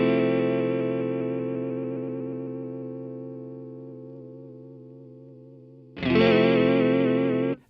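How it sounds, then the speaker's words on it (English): Electric guitar through a Fromel Electronics Seraph Deluxe chorus pedal in vibrato mode: a sustained chord with a wavering, pulsing pitch that slowly decays, then a brighter, louder strum with the same warble. "Obviously now you can hear that vibrato much more dramatically."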